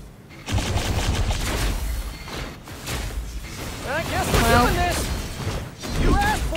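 Tank cannons fire in a Spider-Man video game, a run of rapid bursts and booms with whooshing effects and tonal game sounds, under a player's talk.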